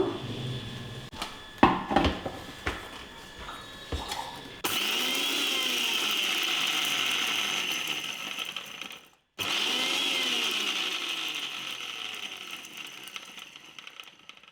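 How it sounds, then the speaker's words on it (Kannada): A kitchen mixer grinder coarsely grinds peeled garlic for lemon chutney in loud, close bursts of high whirring, with a brief pause between runs after some clattering handling sounds at the start. "ಇದನ್ನ ತೀರಾ ನುಣ್ಣಗೂ ಅಲ್ಲದೆ ಸ್ವಲ್ಪ ತರ್ತರಿಯಾಗಿ ರುಬ್ಕೋಬೇಕು"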